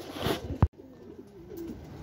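Racing pigeons arriving at the loft after a 135 km training toss give a soft close coo and a brief flutter, followed by a quiet lull with faint murmuring in the background.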